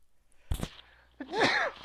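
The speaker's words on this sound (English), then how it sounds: "Now I'm actually going to sneeze." A single sharp sneeze bursts out, close and loud, followed moments later by a voiced, moaning exhale, with faint game sounds from an Overwatch-style match beneath.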